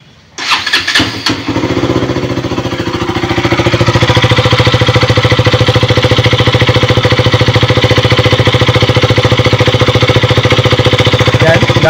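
A KTM Duke motorcycle with a damaged oil pump and low oil pressure cranks briefly, catches and settles into a loud, steady, close idle with a rapid even beat.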